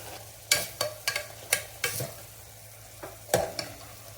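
Jackfruit is sautéed with ground masala in a pan for a pulao, giving a run of sharp spoon scrapes and knocks at an uneven pace over a faint low sizzle, no talk.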